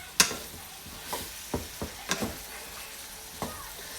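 Mushrooms and seasoning cooking down in a pan on medium heat, a few scattered stirring clacks and scrapes over a soft, low sizzle, close by and without speech.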